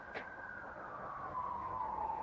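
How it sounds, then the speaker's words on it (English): A police car siren wails at a distance in a long, slowly falling tone that grows a little louder over a low background rumble, with no talking. "It's a police car."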